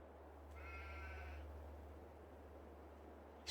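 A single faint sheep bleat rises briefly over a low steady hum on a farm in Farming Simulator 22, distant and quiet.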